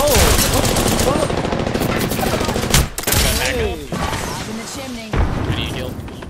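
Rapid automatic gunfire in an Apex Legends Season 4 match, loud and close, with sustained bursts broken by brief pauses and heavy impacts, while a player talks over it.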